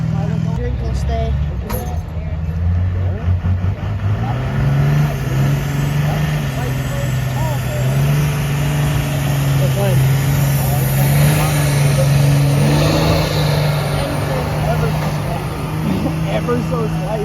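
A pulling truck at a fall fair truck and tractor pull roars at full throttle for the whole stretch, a loud sustained engine drone whose pitch climbs and holds, with people talking over it.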